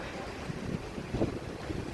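A strong wind blows through a city street in Helsinki on a cool, drizzly day. It makes a steady, close, buffeting roar across the microphone, with slight gusting swells.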